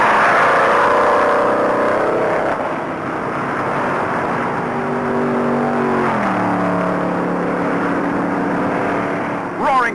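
A pack of NASCAR stock cars roars around the track at about 150 mph, their engines blending into a loud continuous drone with pitch sweeping downward as cars rush past.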